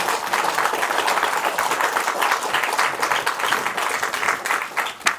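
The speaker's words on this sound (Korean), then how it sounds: "나경원 원내대표에게도 한번 뜨거운 박수를 부탁드립니다" Warm applause for floor leader Na Kyung-won at a Liberty Korea Party lawmakers' meeting, loud and dense clapping from a packed room that holds steady for about five seconds, then thins at the end.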